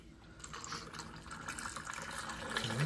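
Liquid being poured in a restaurant, a steady filling splash and gurgle rising slightly as the vessel fills, close and continuous with no talking.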